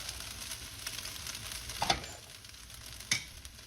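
Filipino fried rice stir-fried in a pan, lumps broken up with a utensil: a steady close sizzle with soft scraping and two sharp spatula knocks against the pan.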